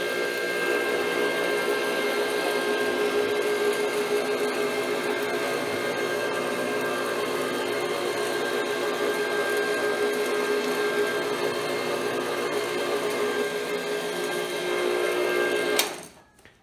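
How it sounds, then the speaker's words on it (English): A CRB carpet scrubbing machine pre-scrubs old, neglected nylon carpet treated with Code Red cleaner. Its motor hums and whirs steadily and close for about sixteen seconds, then cuts off abruptly near the end, with no voices. "Let's fire up the old workhorse CRB"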